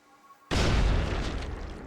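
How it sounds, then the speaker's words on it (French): A frag grenade explodes in a video game: one sudden, loud boom that cuts through near silence, followed by a long rumbling decay with no talking. "Grenade frag lancée."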